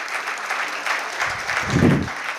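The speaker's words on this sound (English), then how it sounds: "The students can clap out loud." Students applaud at the inaugural session of a conference, a steady wash of many hands clapping that swells toward the end.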